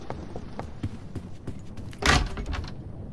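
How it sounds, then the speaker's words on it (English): A door opening in the Roblox game Doors, a few soft clicks followed by a loud sliding whoosh and thunk around the middle, with quieter knocks after it and no talking. "Oh, they opened the door."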